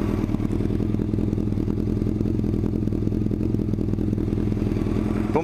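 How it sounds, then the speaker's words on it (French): A Kawasaki ZZR 1100 four-cylinder motorcycle from late 2000 idles through its exhaust, a steady close-up low rumble with a fast even pulse and light mechanical clatter, no voices over it. "Écoutez un petit peu le pot."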